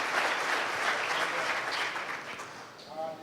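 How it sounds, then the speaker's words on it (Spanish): Steady, dense applause from a large church congregation, loud throughout and tapering slightly toward the end. "Denle un fuerte aplauso al Rey de Reyes y Señor de Señores."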